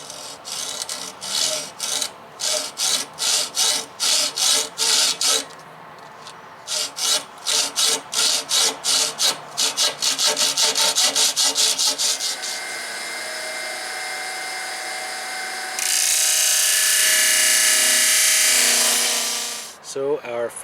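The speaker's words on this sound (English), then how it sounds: "Actually, let's cut some aluminum instead." Aluminum trim for a teardrop trailer is cut with a hand saw in rhythmic back-and-forth strokes, close and rasping, then a continuous, more even cutting hiss follows before a brief pause.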